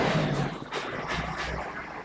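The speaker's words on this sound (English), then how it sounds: "Excuse the noise of the traffic" Road traffic from a nearby street carries into a back garden as a low, continuous rumble with soft swells of passing vehicles, fairly quiet and without talk.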